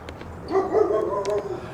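A dog gives a short, close bark-like vocalisation, a brief yelping call lasting about a second against quiet background, no talking.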